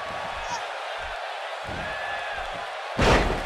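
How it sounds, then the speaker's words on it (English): A wrestler's body slam in the WWE 2K18 video game lands as a single loud thud near the end, after an arena crowd murmur and game commentary. "And she slams her back down."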